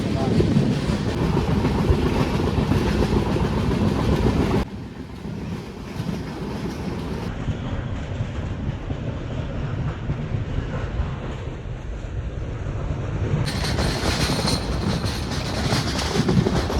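A passenger train on the Konkan railway runs along the rails in the rain, a loud steady rumble and clatter that drops and changes briefly, as if passing through a tunnel, then returns.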